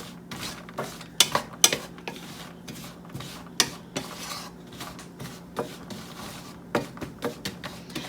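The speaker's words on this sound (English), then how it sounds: "going to let the butter melt all the way and kind of start toasting up the pecans" Pecans toasting in melting butter in a pan over medium-high heat, heard as a series of close scraping stirs and sharp clicks against the pan over a soft sizzle.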